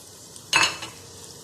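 Mutton paya being stirred and fried with salt, crushed red chili and turmeric, a single short burst of scraping and sizzle, close, against a quiet background.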